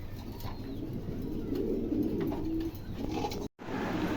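A pair of pigeons for sale at a wholesale pigeon market coo in low, steady rumbling phrases close by. Faint background bustle continues, and a brief dropout comes near the end.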